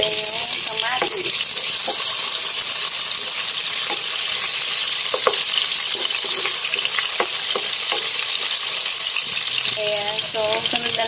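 Garlic, onion and tomato sautéing for Filipino pinakbet, a loud continuous close sizzle with scattered spoon clinks and stirring scrapes throughout.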